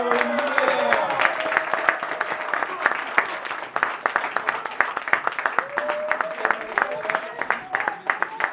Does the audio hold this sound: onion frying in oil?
no